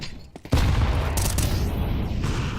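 Rapid gunfire sprayed through a smoke grenade in a competitive esports match, a sudden loud sustained burst of shots following a quieter opening, with faint voices.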